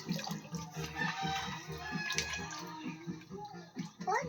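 Water splashes and sloshes steadily in a bath as a small child is washed, with voices talking and babbling close by throughout.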